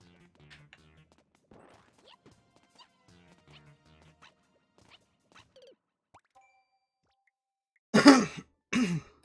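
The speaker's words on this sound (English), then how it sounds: "Sorry for the cough." Two loud, close coughs burst out back to back near the end, after a long stretch of faint, scattered game sounds from Super Mario Maker 2.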